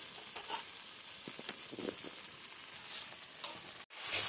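Potatoes frying in a pan with chilli powder, turmeric and salt for a potato curry, a soft steady sizzle with light scraping stirs, close and moderately quiet, brief cut near the end.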